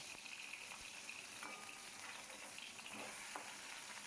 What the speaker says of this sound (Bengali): কড়াইতে সর্ষের তেল চাপিয়েছি তার মধ্যে প্রথমে দু পিস মাছ দিয়ে দিলাম